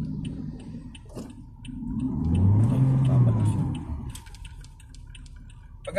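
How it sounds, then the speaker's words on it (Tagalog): A car engine rumbles up near the microphone during a driving lesson, swelling to a low steady drone and then easing back, with ticking and muffled voices around it. "Pagka narinig mo na yung tunog ng engine"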